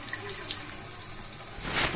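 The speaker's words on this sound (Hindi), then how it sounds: "पानी बहुत कम ये निकल रहा है" Water runs in a weak, thin stream from an instant geyser tap faucet, a steady hiss that swells slightly near the end, with no one speaking.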